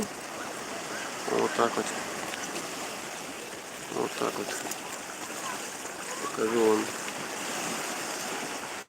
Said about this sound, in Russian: Смотрите, как волны тут накатывают